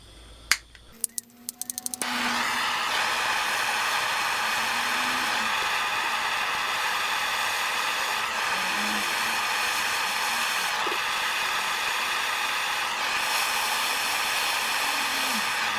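A heat gun starts with a click and then blows a steady, loud airy whoosh close by as it heats a stuck part on a Stanley No. 733 breast drill, with faint scraping and handling noises underneath.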